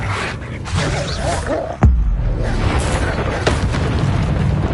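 A Confringo explosion spell in Hogwarts Legacy goes off as one sharp, heavy boom midway, over a continuous bed of game ambience and effects.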